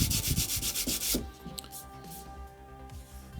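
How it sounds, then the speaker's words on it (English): Plastic sanded by hand with sandpaper, heard as a fast series of close, loud rhythmic scrubbing strokes that stops abruptly, leaving faint scratches and quiet background noise behind. "so I want to sand it away"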